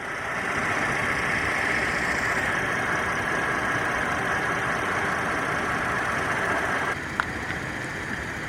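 A 2016 Chevrolet Traverse's 3.6-liter direct-injection V6 idles steadily up close, a continuous even rumble with a faint click near the end.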